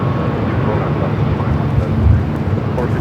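An old ex-Northwest Airbus A319 bound for Denver takes off from LAX runway 24 left, heard as a loud, close, low roaring engine rumble with wind buffeting that swells briefly toward the end.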